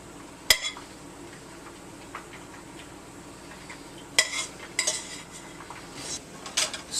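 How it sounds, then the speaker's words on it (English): Lardons and Brussels sprouts tossed in a pan: a sharp metallic clank opens, then scattered clinks, scrapes and soft stirring over a faint sizzle, with several more clattering bursts toward the end. "We just kind of want to toss the bacon in there just to kind of warm it up a tiny little bit"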